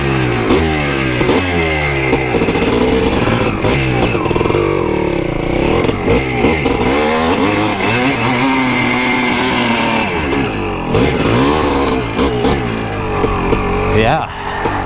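A 1981 Yamaha IT250 two-stroke dirt bike ridden over rocky ground, its engine loud and close. The revs rise and fall continuously with rough clatter mixed in throughout.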